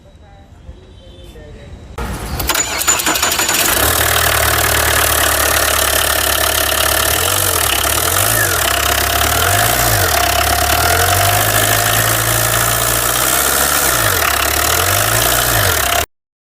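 A 2013 Tata Indica Vista diesel car starts up and settles into a steady, loud idle with a low rhythmic clatter and periodic wavering hum, recorded close.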